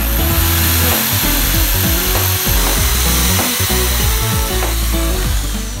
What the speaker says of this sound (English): make a small hole on the point of both spoons handle.